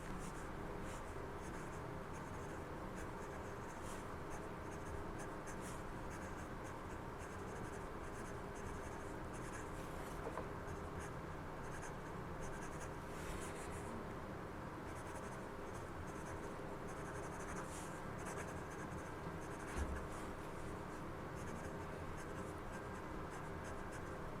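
A Sailor 1911 fountain pen with a 14k medium nib writes steadily on paper, a soft continuous scratching with faint strokes throughout, close and quiet with no talking.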